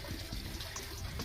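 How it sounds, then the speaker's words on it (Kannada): Water pours from a spout in a Nandi statue at a small hilltop temple on the Periyamalai trek near Bangalore, a faint, steady trickle and splash heard alone. "ಇದೊಂಥರ ಹೀಗೆ ನಂದಿಯಿಂದ ನೀರು ಬೀಳುತ್ತೆ"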